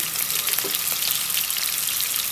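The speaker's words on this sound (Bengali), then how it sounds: "পেঁয়াজটা লাল লাল করে তারপর আমি পাতাকপির মধ্যে দিয়ে দেব" Onions frying in a pan for a winter cabbage fry, a soft, even sizzle with faint crackles running steadily throughout, no voices.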